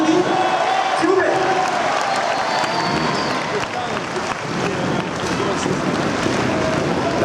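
Indoor motorcycle event crowd in Toulouse breaks into applause for a rider, a dense, steady wash of clapping and cheering filling the arena throughout, with an announcer's voice carrying over the top.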